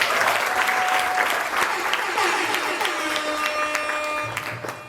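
Sustained loud applause from an audience at a graduation and anniversary celebration, dense clapping that carries steadily for several seconds with crowd noise mixed in.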